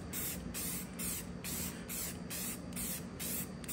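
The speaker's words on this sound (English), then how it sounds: "Why am I spraying it horizontally?" Repeated bursts of aerosol spray paint hissing onto an AK-104 rifle in an even rhythm, about seven short sprays close by with brief pauses between them.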